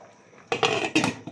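A metal lid clatters onto a cooking pot of simmering fish broth, two bright clanks about half a second apart after a quiet stretch, then a faint tap.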